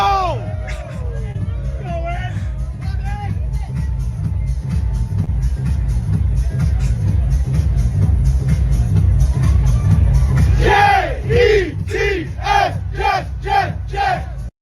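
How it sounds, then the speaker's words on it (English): A large stadium crowd roars and chants loudly throughout, with shouting voices and rhythmic yells rising near the end. "Look at this crowd."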